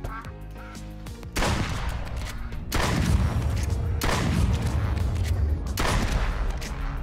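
Ducks in the Duck Season VR game: harsh quacks early on, then loud repeated shotgun-like blasts with rumbling tails dominate, several shots in a row at close range.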